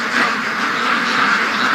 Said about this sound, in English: These are all really young ducks.